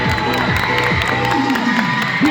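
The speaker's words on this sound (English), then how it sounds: "Let us give them a warm round of applause." Crowd at a high school Pi Day event applauding and cheering, with whoops and shouts over clapping, while loud music with a voice plays on top throughout.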